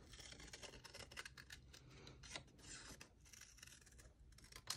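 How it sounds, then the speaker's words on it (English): Scissors snip continuously around the outside edge of a paper watermelon shape, giving quiet, close, rapid cutting and rustling sounds. "These are pretty easy to cut out. The watermelon, I'm just gonna go around the outside edge."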